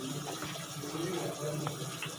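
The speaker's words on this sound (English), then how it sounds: "We should use the water between the fingers." Tap water runs steadily during a hand-washing safety demonstration for COVID-19 hygiene, a continuous close gushing hiss at the sink with a voice speaking over it.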